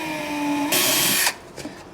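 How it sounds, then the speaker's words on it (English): A power drill fitted with a Forstner bit bores a small pilot hole during a 2020-2022 Indian Challenger motorcycle audio install. A quieter whir gives way to a loud, bright burst of drilling that stops abruptly after about half a second. "So we're going to drill."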